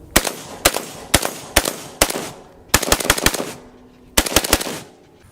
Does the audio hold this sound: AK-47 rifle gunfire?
yes